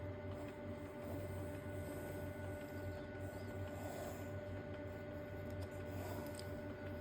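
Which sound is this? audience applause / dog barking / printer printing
printer printing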